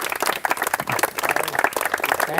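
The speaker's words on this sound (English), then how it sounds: "How about a round of applause for old George?" A small outdoor crowd on a battlefield tour at Gettysburg National Military Park applauds, a brief burst of quick, close claps lasting a couple of seconds.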